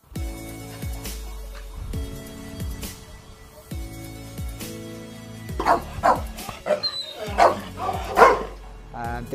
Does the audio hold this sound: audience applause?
no